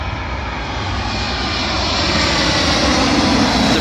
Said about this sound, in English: Arriving in now, the British Airways A320 from Munich to London Heathrow.